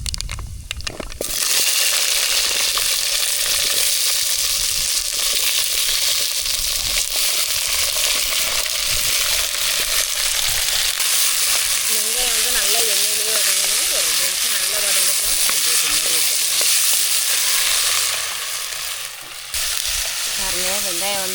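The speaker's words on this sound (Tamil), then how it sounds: "நல்லா எண்ணெயிலே நல்லா வதங்கிடுச்சு பாருங்கள் வெங்காயம்" Small onions frying in hot oil with fenugreek, mustard seeds and dried red chillies for a village-style onion kuzhambu, a loud steady sizzle with stirring scrapes throughout, no talk.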